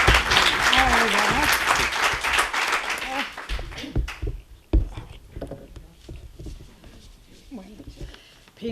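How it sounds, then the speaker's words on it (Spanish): An audience bursts into dense, sustained applause at a talk, which fades after a few seconds into scattered claps and low murmuring voices. "un aplauso para Secundina, por favor"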